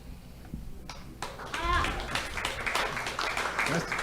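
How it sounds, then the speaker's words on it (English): Audience clapping in a meeting space, rising from quiet into scattered, moderately loud applause mixed with a few voices and cheers. "Clapping is allowed here in this meeting space"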